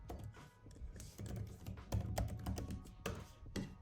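Quick, uneven bursts of typing on a computer keyboard, close and clear, with clustered key clicks and brief pauses between runs.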